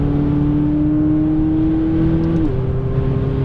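A McLaren 570S twin-turbo engine pulls hard out of a corner on a racing track, a loud, close, steadily rising drone that drops briefly at a gear change before carrying on.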